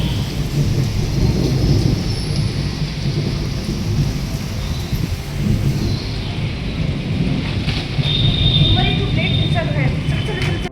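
Heavy monsoon-style rain pours down hard with thunder rumbling through it, a loud, steady roar of downpour lasting throughout with no break.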